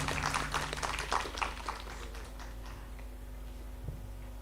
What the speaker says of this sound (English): Okay, please give it a big applause.